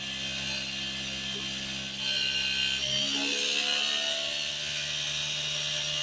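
A hand-built antigravity device with a loose, unfixed disc spinning at high RPM on a vibrating platform, giving a steady close mechanical whir and whine with faint rattling, and a brief pitch shift around the middle.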